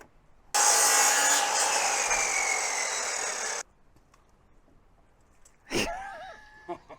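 A power saw cuts a larch featheredge cladding board in one loud, continuous burst lasting about three seconds, then stops abruptly. After a short quiet, a clunk follows and a voice briefly speaks.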